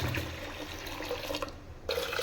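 Soaked black urad dal being washed by hand in a small amount of water, with steady sloshing and splashing close by, a brief lull near the end before the swishing resumes.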